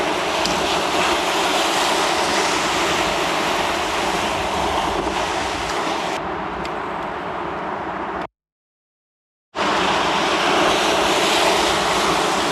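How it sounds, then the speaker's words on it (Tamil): Rough sea surf breaks on a deserted beach in a steady, loud roar mixed with wind buffeting the microphone; the sound cuts out completely for about a second before the surge returns. "கடல் கொந்தளிப்பாக இருக்குது இந்த ஏரியாவில்,"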